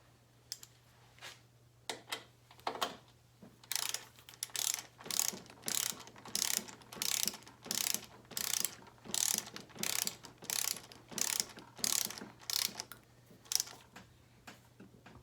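A torque wrench ratchets in a long series of rhythmic clicking bursts as it tightens the triple tree pinch bolt on a 1985 Harley FXRS Evo, close and clear with no talk.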